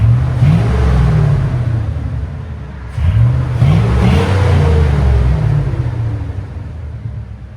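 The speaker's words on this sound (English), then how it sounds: "Listen to that diesel." A 2004 Chevy Silverado with a 5.3L V8 and a Black Widow exhaust revs loudly up close, giving a deep rumbling idle that rises in two throttle blips, with no talk.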